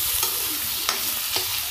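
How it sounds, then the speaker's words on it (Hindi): A spoon stirs Knorr soup steadily in a pan on the stove, with a soft constant simmer and three brief scraping strokes spaced across the moment, close by and alone. "इसे कंटिन्यू बीच में चलाते रहेंगे ताकि इसमें लम्स ना पड़ जाएं"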